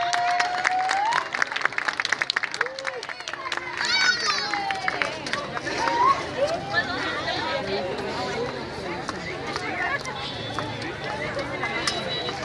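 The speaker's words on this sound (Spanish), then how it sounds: "¡Fuerte el aplauso!" Audience applause for a folk dance group performing sones of Nayarit, with moderate clapping mixed with crowd chatter and a voice speaking over it, rising and fading unevenly.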